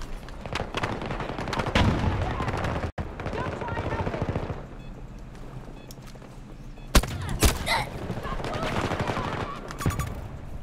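Rapid gunfire in PUBG, with bursts and sharp single cracks, one loud close shot near the middle of the clip, over steady background game noise and occasional speech.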